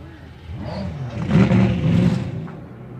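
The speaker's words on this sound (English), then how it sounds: "Drivers, start your engines." GT race car engines at Canadian Tire Motorsport Park firing up and revving, a deep rumbling drone that swells to louder revs in the middle then eases off, several engines blending together at moderate distance.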